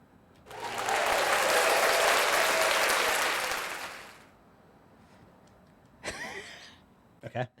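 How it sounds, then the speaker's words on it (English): A studio audience breaks into loud, sustained clapping for about four seconds, then it fades out, followed by a brief burst of talk and laughter. "Give me a clap."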